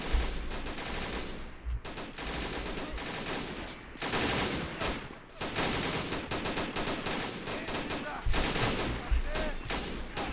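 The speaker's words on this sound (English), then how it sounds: "Sounds like the MG over here is getting popping some shots off." A machine gun fires in Men of War: Assault Squad 2, an army men mod battle, with dense, loud bursts of rapid shots and brief gaps between them, close and continuous.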